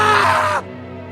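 A person lets out a loud, strained scream, close and alone, lasting about half a second before it cuts off abruptly into near silence.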